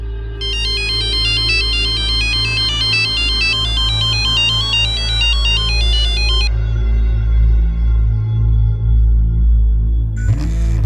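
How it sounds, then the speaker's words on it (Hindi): A bright electronic phone ringtone loops for several seconds and then stops unanswered, over a low steady hum, followed by a brief rising tone at the end. "ये मनीषा मेरा फोन क्यों नहीं उठा रही?"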